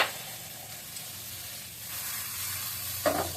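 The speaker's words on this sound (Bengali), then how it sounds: "তারপর তেলে ছেড়ে দিলাম, তেলে ছেড়ে দিয়ে চটপট করে একটা উল্টা দিয়ে দিলাম" Food sizzles in hot oil with a steady hissing crackle throughout, close by, and a brief louder burst near the end as it is flipped; no talk.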